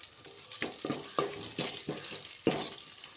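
Garlic, curry leaves, dried red chilies and asafoetida fry in hot oil in a quiet kitchen, giving close, faint sizzling with several sharp crackles and pops scattered at uneven intervals.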